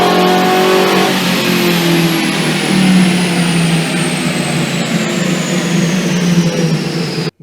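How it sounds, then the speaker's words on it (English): Ford Crown Victoria engine on a dyno, revving loud and hard in one long continuous pull with a rising whine, filling the whole clip alone before cutting off abruptly at the end. "if you check out this LMR clip of this Crown Victoria on a dyno,"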